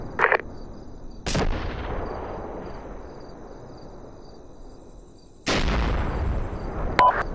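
Mortar rounds fired in a test session: a short pop, then two separate heavy booms several seconds apart, each a sharp blast trailing into a long fading rumble, over faint high background noise.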